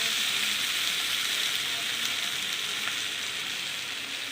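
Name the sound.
frying spices with elephant foot yam and potato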